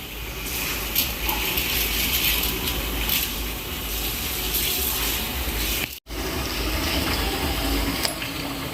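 Wheat grains being washed by hand in water for homemade vermicelli, a steady sloshing and gushing of water that runs almost without pause, with one brief dropout near the end.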